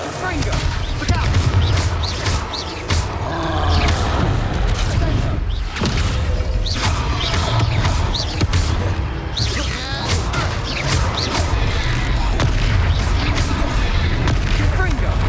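Repeated Confringo spell blasts in Hogwarts Legacy, a string of sharp booming explosions and crashes through a chaotic fight, with voices calling out between the hits.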